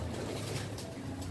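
Racing pigeons arrive at a loft during a training toss in Matabungkay, Lian, Batangas, giving faint bird sounds that may include cooing over a soft, continuous outdoor background, with no talk.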